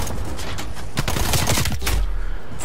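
Pistol fire from a fully upgraded AMP 63 in a first-person shooter video game, with a rapid cluster of sharp shots and clattering bursts packed into the middle of a noisy game mix.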